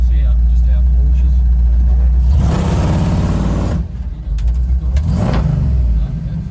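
A 1964 Ford F-100 pickup revs hard and then launches in a burst of acceleration, the engine roaring loud and close from inside the cab before easing off and surging again.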